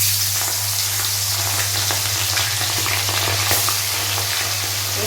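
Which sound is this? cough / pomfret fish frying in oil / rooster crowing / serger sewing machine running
pomfret fish frying in oil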